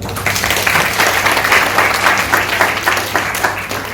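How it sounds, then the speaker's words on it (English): Audience applause for a young changemaker at a World Children's Day talk event, a full, steady round of clapping from a crowd lasting several seconds. "she requires a round of applause for that"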